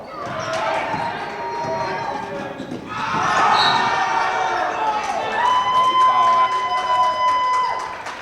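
Crowd noise at a high school junior varsity boys' basketball game, Telstar against Monmouth, a steady murmur that swells into louder cheering midway, with a ball bouncing and voices talking throughout the gym.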